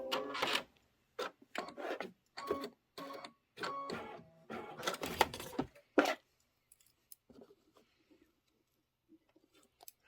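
An embroidery machine stitches a tack-down line on a fabric pillow block, its needle running in short rapid bursts with brief pauses, close and clear, then trailing off into quieter scattered clicks.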